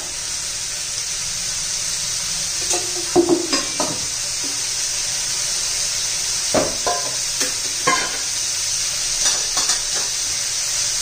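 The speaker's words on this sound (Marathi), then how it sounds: "तेलामध्ये चांगलं फ्राय करून घ्यायचं आहे, चांगलं शिजून घ्यायचं आहे" Broad bean (ghevda) vegetable fries in oil with a continuous close sizzle, broken by several scraping clatters of a spatula stirring against the pan.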